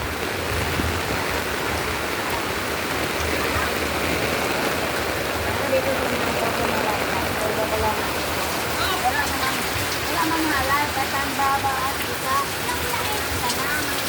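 Heavy rain pours steadily during Typhoon Kristine in the Philippines amid flooding, a dense continuous wash of water on surfaces, close and constant, with a voice faintly underneath.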